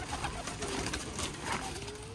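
Pigeons at a loft in Sialkot give faint low cooing under a dense, hissy background of constant noise, the calls barely rising above it and heard without talk.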